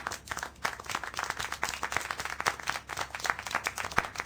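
Scattered clapping and applause from a small crowd in the video game Syberia: The World Before, fairly faint and continuous, with no voices over it.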